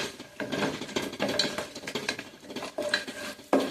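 Cashew nuts frying in ghee for ghee rice are stirred in a metal pan, with repeated scraping and clinking of a spoon against the pan and a light sizzle underneath, close and uneven in rhythm.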